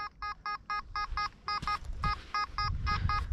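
Repeated short electronic beeps in a steady pulsing rhythm from a Nokta 1st Swing children's metal detector on a beach, with faint rustling and handling noise underneath.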